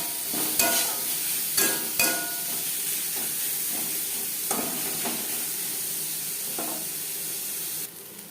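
Chopped onions sizzle steadily in hot oil, with a few sharp spatula scrapes and stirring clicks breaking through a continuous hiss, close by and with no voices.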